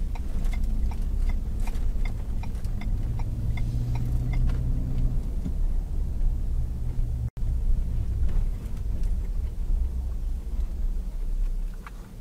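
Road traffic passing outside Princeton Elementary School in College Park, heard as a steady, continuous low rumble of vehicles with no voices.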